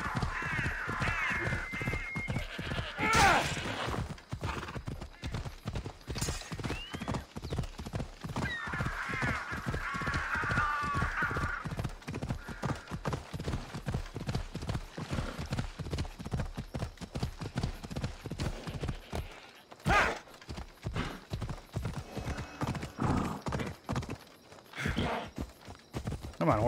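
Horse hooves clip-clop steadily in the ancient Greek game Assassin's Creed Odyssey, a continuous fast rhythmic gait running throughout at moderate volume, with occasional crow caws and brief ambient sounds.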